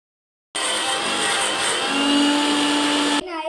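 A kitchen mixer grinder grinding halwa ingredients starts abruptly and whirs at a loud, steady high pitch for about three seconds, then cuts off, close by.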